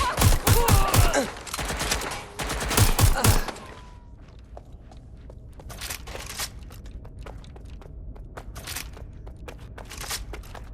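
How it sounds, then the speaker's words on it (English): Rapid bursts of gunfire from a firefight in Watch Dogs: Legion, loud and dense for the first few seconds, then dropping to scattered distant shots and clatter over a low ambient bed. "Taking fire!"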